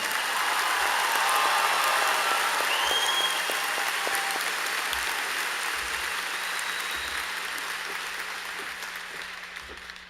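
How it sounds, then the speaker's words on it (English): Audience applause at a high school graduation ceremony, broad steady clapping from a large crowd that slowly thins and fades toward the end. "Let's give this group of 10 one last final applause."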